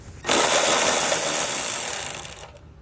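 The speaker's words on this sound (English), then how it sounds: "we want to grab a 10mm socket and pull both of those bolts out" A 10mm socket, likely on a power ratchet, spins out bolts holding the rear fascia to its supports on a 2019 Mercedes-Benz GLA, a steady close whirring burst of about two seconds with no talking.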